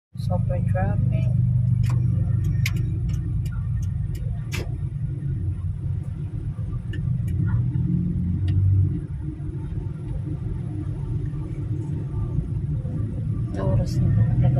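Heavy Friday road traffic rumbles from inside a car, a constant low engine and road drone with faint passing vehicles, under people talking.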